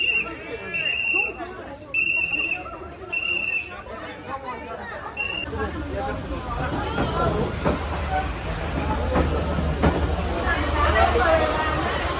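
A train rumbles past close by in Vietnam, a steady broad roar with hiss, while people chatter over it; a few shrill tones sound near the start.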